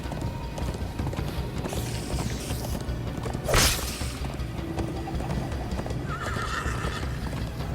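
Horse hooves clip-clop steadily at a gallop, with a whinny rising over them and a sharp crash partway through, all close and busy.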